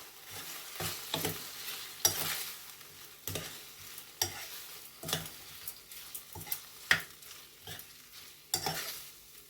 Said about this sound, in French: je coupe le feu et je mélange mes crevettes